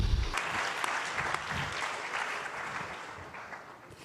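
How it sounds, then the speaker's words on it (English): Applause from an audience at a high-level summit of heads of state, a steady wash of many hands clapping that slowly fades toward the end, with no speech. "A round of applause."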